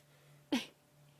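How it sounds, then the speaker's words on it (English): A lioness gives a single sharp sneeze to clear inhaled flies, a brief close burst standing out from a quiet savanna background with a steady low hum. "every now and again they inhale the flies and have to have a bit of a sneezing fit to get rid of them"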